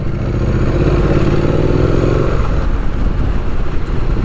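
A motorcycle revs hard during a wheelie on city cobblestone streets, loud and close, with a throaty engine roar and rattling clatter from start to finish.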